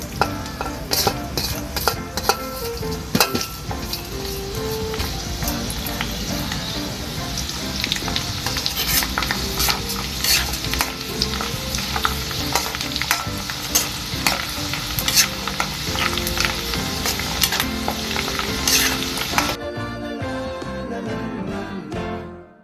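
Shallots frying in hot oil for a Thai pork crackling chili paste, a dense steady sizzle with repeated scraping stirs and clinks throughout, close and loud, cutting off sharply near the end.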